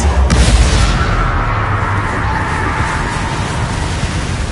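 A Bombarda spell explosion in the video game Hogwarts Legacy: a sharp loud burst at the start followed by a long rolling rumble that slowly fades.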